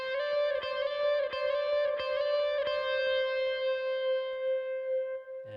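A sliding electric guitar lead riff repeats with effects, with several rapid slid and picked notes before a single sustained tone rings on and decays, ending with a faint thump.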